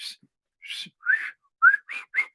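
A series of short, breathy whistle attempts, about six brief bursts with gaps between, some thin and airy, a couple landing on a clearer tone.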